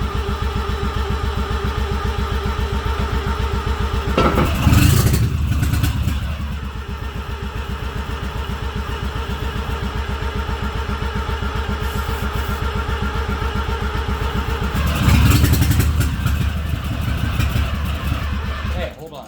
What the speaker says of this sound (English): It's dragging the starter.